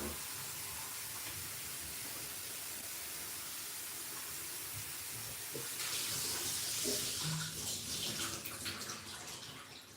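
Water hisses steadily from a tap while a film developing tank is filled for a pre-soak, a soft continuous rush that swells louder and brighter partway through, with faint clinks near the end.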